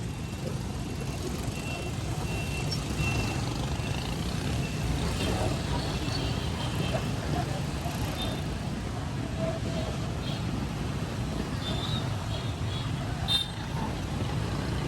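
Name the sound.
heavy street traffic with car horns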